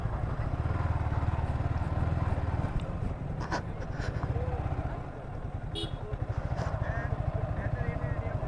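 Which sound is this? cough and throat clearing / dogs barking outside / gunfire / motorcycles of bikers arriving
motorcycles of bikers arriving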